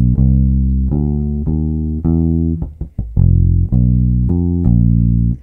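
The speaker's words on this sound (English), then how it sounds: "if we take that bass line example and I add too many skip notes" An electric bass plays a jazz walking line cluttered with many skip notes: a run of deep, sustained notes with quick ghosted pickups between them, clear and solo.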